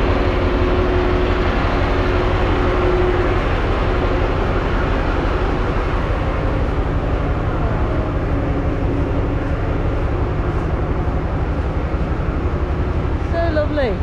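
Steady low rumble of a moving third-class train carriage in Sri Lanka with constant rattling and hum, a continuous interior ride noise throughout.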